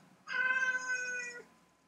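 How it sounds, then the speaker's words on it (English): A pet cat, a male named Nikon, lets out one loud, drawn-out meow lasting over a second, close to the mic and with no talking over it. "My cat's going nuts."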